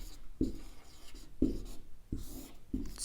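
Chalk or marker writing on a board during a Hindi grammar lesson, four distinct scratchy strokes spaced about a second apart, close and quiet.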